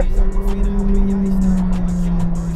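A McLaren 720S Spider accelerates hard through its gears, the engine note loud and droning with a steady tone that sags slightly between shifts across a few seconds.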